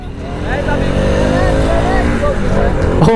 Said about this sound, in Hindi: ये देखो गाइस इसकी बाइक में ढोल की आवाज आ रही है